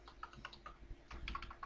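Quick bursts of clicking keys on a computer keyboard, close and fairly quiet, a short run of typing with no voices.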